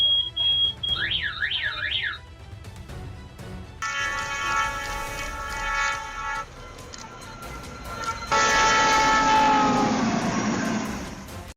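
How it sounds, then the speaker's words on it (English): A train thunders along snowy tracks, first a warbling alarm tone, then two long, loud horn blasts with rumbling noise beneath. "As a train thundered through snowy tracks, it launched massive waves of snow into the air."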